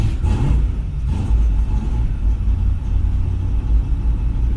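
An old car engine fitted with ACES EFI throttle-body fuel injection catches and settles into a steady, loud, low rumbling idle close by, with no talking.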